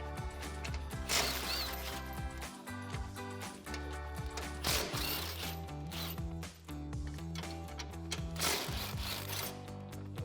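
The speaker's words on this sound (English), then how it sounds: "grab a 15mm socket and get these 3 guys out" Ratchet fitted with a 15mm socket backing three frame plate bolts out of the front end of a 2019-2021 Chevrolet Silverado 1500, heard as steady, busy clicking and metallic rattling close up, with no talking.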